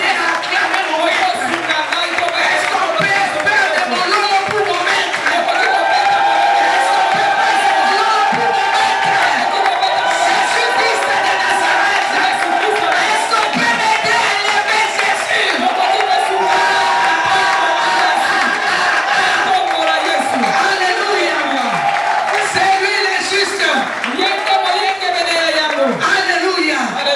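A church congregation cheers and acclaims Jesus Christ during a revival service led by a pastor, with a continuous loud wash of crowd voices, shouts and whoops sustained throughout.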